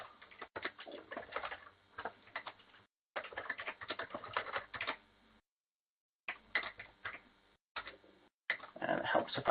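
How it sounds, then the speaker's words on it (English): A computer keyboard clatters in quick bursts of keystrokes separated by short silent pauses, close and fairly loud. "we just type in a first name, last name."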